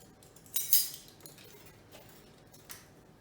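A metal spoon measures a teaspoon of salt for corn blueberry loaf bread, with a few light clinks and scrapes against a container, one brighter chink early then softer taps, close and quiet without talk.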